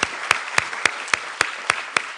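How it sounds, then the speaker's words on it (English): A graduating medical class of 2026 receives applause at a white coat ceremony, heard as a steady rhythm of single sharp claps, evenly spaced and moderately loud, more like one or a few clappers than a full crowd. "I guess we should give them a round of applause too"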